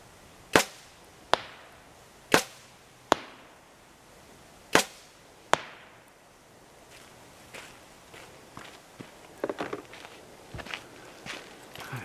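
Arrows fired at a target from 60 yards on a still, windless day, six sharp thwacking impacts spaced about a second apart, followed by softer, scattered knocks and rustles.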